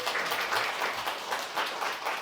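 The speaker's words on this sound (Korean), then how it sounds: "우리 고맙다고 우리 박수 한번 부탁드리겠습니다." A church congregation applauds warmly during a Sunday service, many hands clapping together in a steady, even patter at moderate volume.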